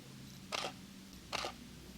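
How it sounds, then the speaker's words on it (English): A Canon 6D Mark I DSLR fires twice, each shot a crisp mirror slap and shutter clack, close and distinct against a quiet room. "When you're trying to take a photo with a DSLR, there's a mirror and a shutter."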